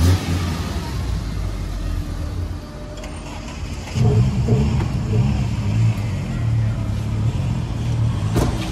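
A Tofaş car engine runs close by with a low, throaty rumble that dips and then swells into a stronger rev partway through, with a few faint voices in the background.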